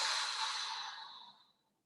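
A single deep exhale during a stretching exercise, a long breathy whoosh that starts full and steady, then tapers off and fades to silence over about a second and a half.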